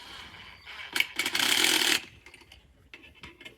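A power driver tightens self-tapping screws while a solar street light is assembled, giving a close, loud whirring burst of about a second, then fainter short mechanical bursts.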